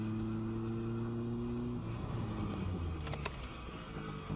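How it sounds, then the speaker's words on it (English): A car engine on a UK road revs hard in a steady rising roar. The roar then breaks off into rough, uneven engine and road noise with a few sharp knocks, all fairly loud and close. "he revs his engine to show his displeasure"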